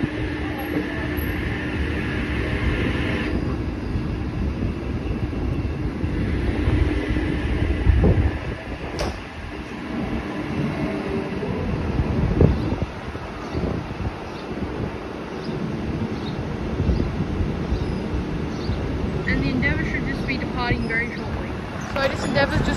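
An Endeavour diesel passenger train departs a station at Kiama, with a rumbling engine drone building and clattering wheel noise over wind buffeting the microphone. Scattered voices are heard in the background.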